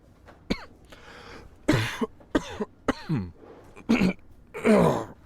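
Several harsh coughs and throat-clearing sounds from a character in the video game This Is the Police 2 come in short irregular bursts, fairly close, with quiet gaps between them.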